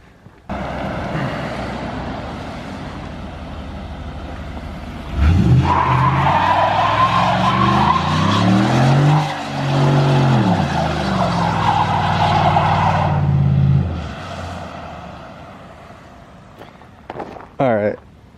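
A Ford F-150 pickup does a tire burnout: the engine revs hard and the tires squeal in a long, loud, sustained screech that wavers in pitch, then fades as the revs drop. Voices chatter before and after.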